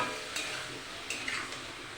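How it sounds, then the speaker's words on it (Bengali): Vegetables for khichuri fry and get stirred in a pan, a soft steady sizzle with a few scraping stir strokes, close and alone for about two seconds. "আর কিছুক্ষণ আমি ভাজা ভাজা করে নেব।"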